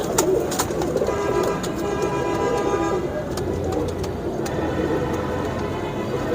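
Pigeons at a crowded pigeon market coo amid steady bird chatter and background noise, with short sharp calls and horn-like toots cutting through a continuous mid-loud ambience.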